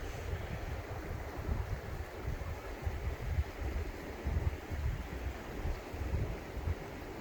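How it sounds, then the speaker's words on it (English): River water flows steadily around a person sitting in the stream, a constant low rushing wash with some wind rumble on the microphone and no speech. "Actually sitting in the river."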